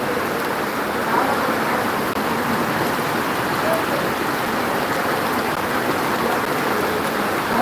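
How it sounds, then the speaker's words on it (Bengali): Steady rain falls at Mirpur, Dhaka, beside the national cricket stadium, a dense, even wash of hiss that stays constant and fairly loud throughout. "অবশেষে আল্লাহ রহমতের বৃষ্টি হচ্ছে দেখেন"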